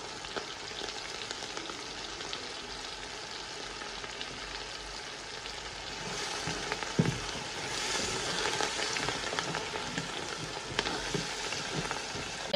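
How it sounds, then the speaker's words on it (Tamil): Coriander and mint leaves sautéing in a pan, a steady dense sizzle that rises slightly partway through, with a few soft stirring knocks, continuous and fairly quiet. "இந்த ஸ்டேஜில் ஒரு கைப்பிடி அளவு மல்லியும், கொத்தமல்லியும், புதினாவும் போட்டு நல்லா பரட்டிப்போம்"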